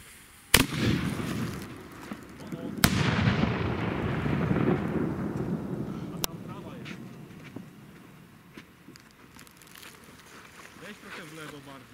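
An old antique pyrotechnic cannon fires outdoors with a few sharp blasts. One heavy boom leaves a long, rumbling, fading tail, and voices are heard in the background.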